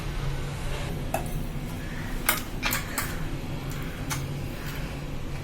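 Ground homemade herbal powder pours and tips into a vessel with soft rustling, plus a few sharp clinks and taps of metal against the container, heard up close in a quiet room.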